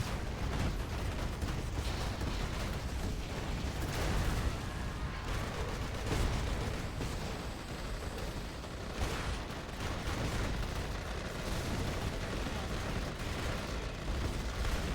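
Mortar Mishka units in a Command & Conquer match keep up a dense, continuous barrage of distant thumps and blasts with no pause, a constant rumbling layer of battle noise.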